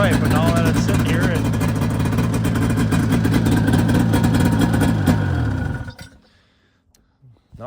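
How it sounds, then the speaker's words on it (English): A freshly restored 1984 John Deere Liquifire tractor engine runs at a loud, steady, throbbing drone close by, then winds down and cuts out, leaving near silence with a brief knock at the end. "that rev limiter does sound like it might have some diesel pop in it"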